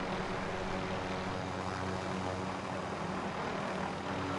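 A steady, droning helicopter engine hum in a video game fills the whole stretch, dense and continuous with no voices.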